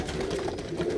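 Pigeons coo softly in a low, continuous murmur during a brief one-second moment in Faisalabad, faint and unaccompanied by talk.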